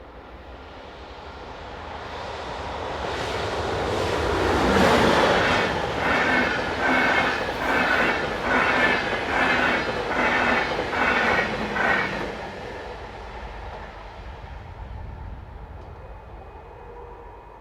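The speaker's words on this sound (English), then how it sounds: "DB Schenker's 185339 is the loco on offer this time around, as it heads a southbound tank train from Großkurbita." A DB Schenker class 185 electric locomotive, 185339, heads a southbound tank train, swelling from a distant approach into a loud, steady pass with a rhythmic run of wheel clatter over rail joints, then fading as the wagons roll away.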